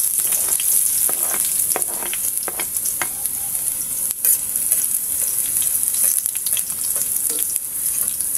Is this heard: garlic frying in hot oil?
yes